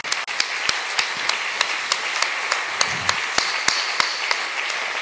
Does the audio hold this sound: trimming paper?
no